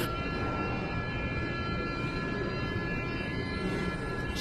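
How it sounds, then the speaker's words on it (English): A Norfolk Southern train passing close by, a steady, loud low rumble with a broad wash of noise and faint high tonal whine running the whole time without pause. "the first video here is about the Norfolk Southern here. It's a train."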